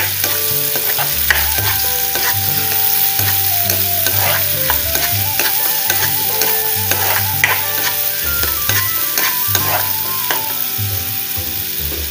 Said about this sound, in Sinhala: මේකත් ඒ විදිහට ටිකක් ෆ්‍රයි කරගමු.